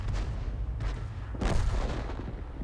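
A tank gun fires in World of Tanks, sending out several heavy booms in close succession. Each blast is loud and rumbling and trails off into a low, lingering roar.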